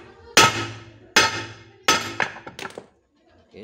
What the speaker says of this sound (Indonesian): Oke, kita palu.